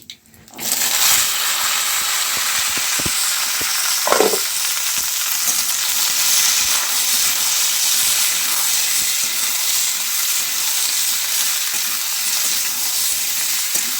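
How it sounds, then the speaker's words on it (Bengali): Cumin seeds temper in hot oil with bay leaf, dried chilli and whole garam masala, then chopped vegetables for papaya ghonto drop in. A sudden burst turns into a loud, steady hiss, with a few clinks early on. "এখানে দেবো আমি জিরে ফোড়ন, সবজি কেটে রাখা সবজিগুলো আমি সব দিয়ে দেবো"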